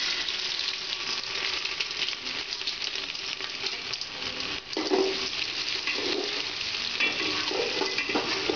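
Ginger sizzles and crackles in white oil in a cooking pot at the start of a pulao, a steady, close frying hiss with a few brief stirring shifts and no talk.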